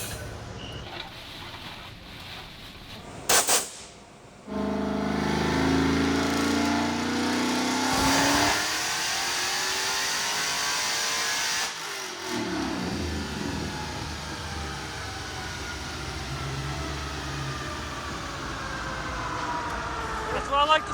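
A manual Dodge Demon with a 100-shot of nitrous roars on a dyno, its engine surging loud and sustained for several seconds before backing off, then droning on more softly.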